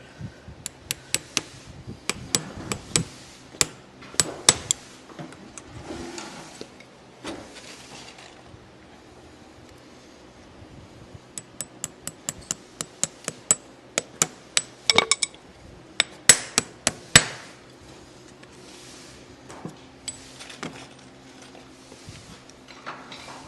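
A farrier taps a horseshoe on a lame horse's hoof with a hammer, landing sharp metallic strikes in irregular bursts with short pauses in between, fairly close and clear over quiet background.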